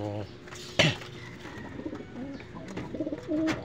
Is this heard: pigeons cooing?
yes